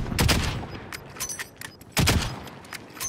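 Gunfire in a Call of Duty: Warzone match: a burst of loud, close shots at the start and another sharp volley near the two-second mark, with scattered pops and game sounds between.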